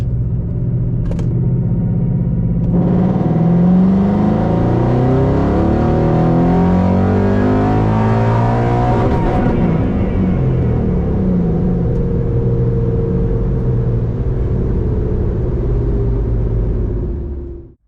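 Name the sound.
car engine revving in a 2500 to 7500 RPM wide-open-throttle pull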